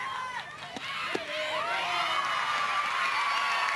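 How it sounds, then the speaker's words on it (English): Children in a Little League softball dugout cheer and shout, high excited voices whooping and chanting together at close range, rising into a sustained chorus. "Always love hearing the cheers from the dugout."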